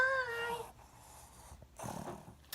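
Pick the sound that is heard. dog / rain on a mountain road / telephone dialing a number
dog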